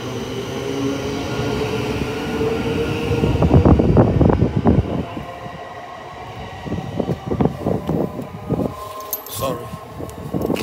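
A train pulls out of St Neots station on the East Coast Main Line, rumbling and clattering over rail joints at moderate distance, with a rhythmic burst of wheel beats building mid-clip and fading, while a voice talks over it.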